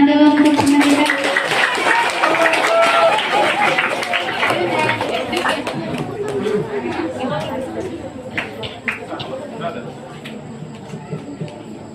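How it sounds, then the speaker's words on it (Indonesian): A small audience at a Ramadan study gathering breaks into applause, with dense clapping most intense early and tapering off to scattered claps, overlapping with chatter and voices. "Beri tepuk tangan dulu untuk teman kita."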